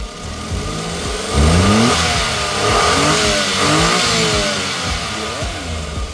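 Engine of a Suzuki DA17V van, non-turbo, revved up and down several times near the microphone, rising and falling in pitch between idle-level stretches.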